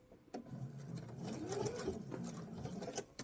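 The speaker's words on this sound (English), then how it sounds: "I'm going to sew this right to the edge, and then reverse," Sewing machine stitching fabric for a travel pouch right to the edge, a steady close mechanical whir with a rising and falling hum, starting after a brief click and running continuously.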